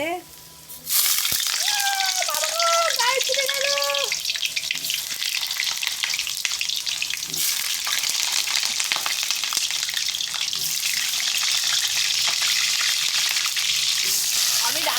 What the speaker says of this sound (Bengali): আলুগুলো দিয়ে দেব তেল গরম হয়ে গেছে